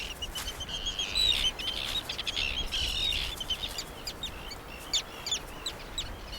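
Seabird colony in the Canadian summer wilderness, parent birds feeding chicks at the nest: a chorus of calls and chirps, some near and some farther off, over steady outdoor background noise, with no talking.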